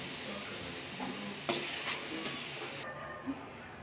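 Potato pieces frying in hot oil give off a faint, steady sizzle with a few soft clicks and stirring taps against the pan, close by and without any talking.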